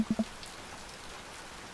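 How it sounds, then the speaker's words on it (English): Light rain falls in the Dream Daddy video game, a soft steady patter under a few brief low tones at the start, fairly faint and without speech. "It's still raining a little bit."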